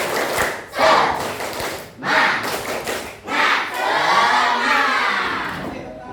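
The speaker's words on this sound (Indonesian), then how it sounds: "Tepuk semangat." A classroom of children performs a rhythmic spirit clap, loud bursts of clapping and shouting voices in a patterned sequence of several surges, ending in a longer chanted shout.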